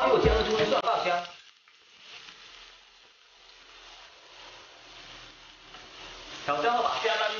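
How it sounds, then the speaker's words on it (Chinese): Chopped green onion and garlic sizzle in hot oil in a wok, a loud, crackling fry at first that settles into a quieter, steady hiss before flaring up again near the end. "油热后放入煎的葱蒜爆香"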